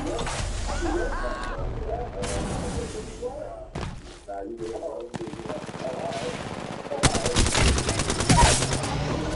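Gunfire in a battle royale game: bursts of automatic shots and heavy impacts rattle through the stretch, loudest toward the end, with players talking over it.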